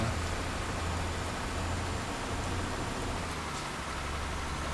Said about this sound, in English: Oh, now the rain's stopping.